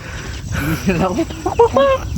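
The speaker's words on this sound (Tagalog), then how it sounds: "Bak! Bak! Ang mga manok." Chickens cluck and squawk nearby in short bursts during a mountain hike, with some voices talking over them.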